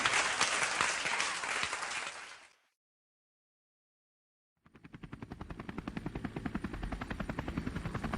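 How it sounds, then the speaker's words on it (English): A large audience applauds for armed services personnel at a Sunday gathering, loud dense clapping for about two seconds that cuts off into silence, followed by a steady rhythmic mechanical beating resembling helicopter rotors. "Now let's have a really big round of applause for our armed services."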